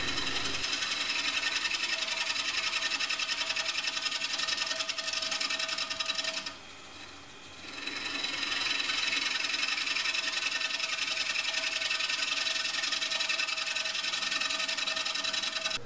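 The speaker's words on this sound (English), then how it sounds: "Just going to come across here with the large scraper and clean the face up." A large scraper trues the face of an off-center wooden workpiece spinning on a lathe, giving a steady, close scraping rumble that dips briefly midway, then resumes.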